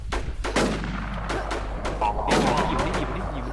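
Bursts of rapid gunfire and heavier blasts from an online shooter video game crackle in quick succession close by, mixed with excited voices talking over the action.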